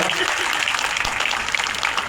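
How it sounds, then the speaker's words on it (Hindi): Audience applause at a state document writers and stamp vendors welfare association's annual convention, welcoming a former chief minister; a dense, steady wash of clapping throughout, fairly loud, with voices mixed in. "आदरणीय भूपेश बघेल, जोरदार ताली एक बार स्वागत।"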